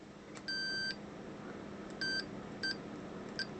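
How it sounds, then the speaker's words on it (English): Fluke multimeter continuity tester emitting a series of clean electronic beeps: one long tone, then a shorter one, then two brief chirps, all clear and close over a quiet hum. "the beeper on it is definitely nice"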